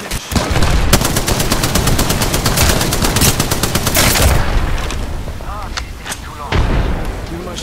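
Rapid bursts of gunfire and a grenade blast in the battle-royale shooter Apex Legends, loud and dense at first, then thinning into scattered shots and effects, with a voice briefly speaking over the action.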